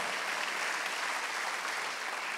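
Steady, dense applause from a congregation during a Korean Wednesday evening church service, an even wash of clapping with no pauses and no speech over it.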